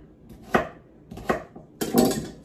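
A knife chops corned beef into 1-inch pieces on a board for a corned beef and cabbage dinner, landing three distinct close, crisp strikes spaced about a second apart, the last one heavier and followed by a short scraping rustle.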